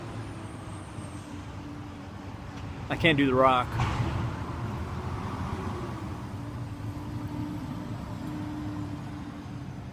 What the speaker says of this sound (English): Here comes a truck.